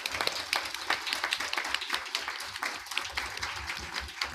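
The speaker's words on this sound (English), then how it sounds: "we should, with even a bigger applause, thank the translators" An audience at a conference on the origins of the war in Ukraine claps for the translators: dense, sustained applause of many hands, close and even throughout, with no clear voices.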